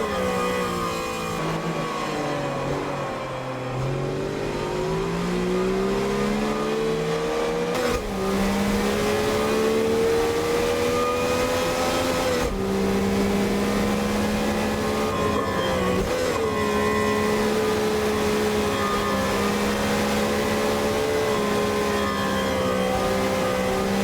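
Race car engine in a racing video game accelerating out of a corner, a steady loud engine note with rising pitch sweeps, gear changes and sustained revving throughout with no talk.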